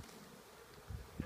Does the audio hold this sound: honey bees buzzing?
yes